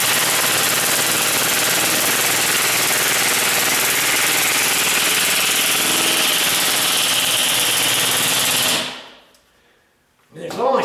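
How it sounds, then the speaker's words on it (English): An impact drill drives screws into a garage door frame with a loud, continuous rapid hammering rattle for about nine seconds, then stops and gives one short burst. "You gotta get one of these impact drills if you don't have one yet."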